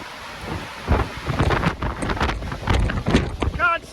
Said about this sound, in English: I think the wind has picked up